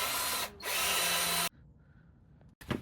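A power drill bores loudly through a pipe in a steady whine for over a second, cuts out, then restarts in a short, rougher burst after a pause of low background hum.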